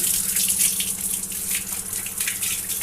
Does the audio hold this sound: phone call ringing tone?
no